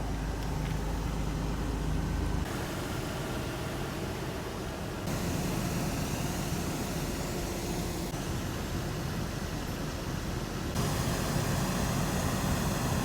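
A JDM project car's engine idles in neutral, a steady, fairly quiet broadband rumble and whoosh that holds even throughout with no revving, heard up close.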